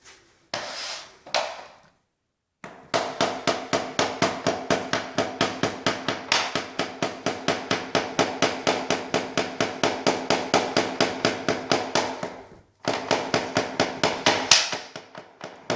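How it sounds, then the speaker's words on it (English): A long run of steady, evenly spaced knocks of a rubber mallet tapping floating-floor planks, about two per second, with a few scattered taps before and after a short pause. "Don't use a hammer, use a rubber mallet."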